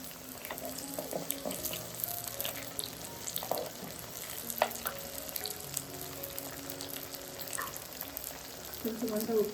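Green chilies frying in a pan while cooking a Telangana-style stuffed brinjal curry: a steady close sizzle with scattered clinks and scrapes of stirring, with no voices.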